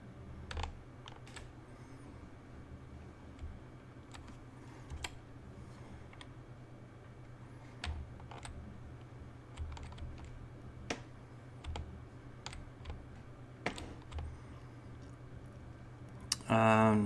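Keyboard keys clicking as WASD is pressed to move through a sci-fi Mars medical lab game scene, scattered light taps over a steady low hum, with someone talking throughout.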